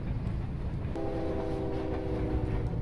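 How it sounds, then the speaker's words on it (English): A train passing by in American Truck Simulator, a steady rail rumble with a sustained horn-like tone sounding partway through, moderately loud and heard alone without talk. "that the train going by. That was very nice here."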